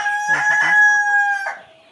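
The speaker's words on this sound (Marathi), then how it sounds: "त्या माझ्यासोबत आणलेल्या कोंबड्या आहेत मित्रांनो" A rooster crows loudly and close by on a poultry farm, one long drawn-out call with a few hen clucks mixed in near its start.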